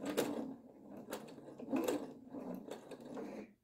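A Husqvarna Viking Designer Sapphire 85 sewing machine stitches in place during free-motion quilting setup, giving close, moderately loud mechanical whirring in short bursts with ratcheting, gear-like clicks.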